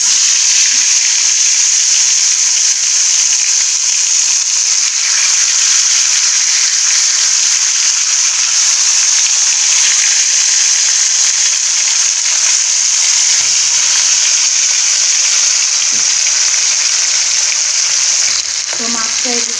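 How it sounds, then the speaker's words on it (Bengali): Spiced fish fried in hot oil in a wok-style kadai, giving a loud, steady sizzle and crackle that fills the whole stretch without a break, close to the pan. "তো মাছটা এদিকে ভাজা হোক,"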